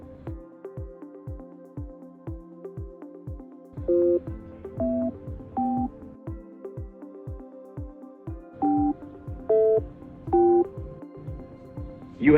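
Telephone keypad tones punch in a six-digit validation code during a phone verification call, a series of short, loud, evenly spaced beeps standing out over a quieter repeating clicking pattern.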